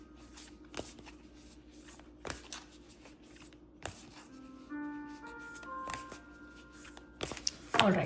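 Tarot cards being shuffled during a reading, with soft intermittent riffles and slaps of the deck close by under low background sound, plus a brief louder clatter near the end.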